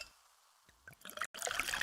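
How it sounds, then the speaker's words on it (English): Pepsi Zero Sugar cola poured into a glass: a quiet start with a few soft splashes, then a loud, continuous fizzing gush through the second half. "Listen to that endless pour."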